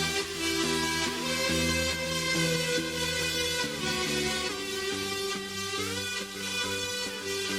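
A dense synth loop with a parallel amp reverb track blended into the lead signal, giving a thick, washy, sustained wall of sound with shifting chords and no voices.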